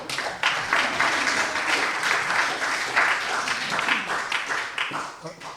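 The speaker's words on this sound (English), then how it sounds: "Let's have a round of applause for Janet." A round of applause for Janet from a gathered audience, dense clapping rising quickly, holding steady and loud for several seconds, then tapering off near the end.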